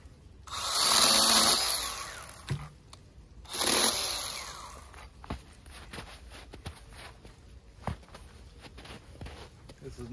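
A Milwaukee M12 Hatchet cordless pruning saw cuts into a cherry tree in two loud, close buzzing bursts of a few seconds each. Softer knocks and handling noises follow.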